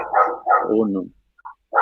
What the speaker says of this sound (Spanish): se nos despiertan los perros